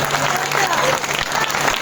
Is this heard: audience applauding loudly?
yes